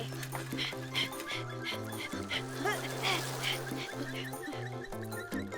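Cartoon ducks quack repeatedly in a lively, rhythmic series over upbeat background music in a children's animated show.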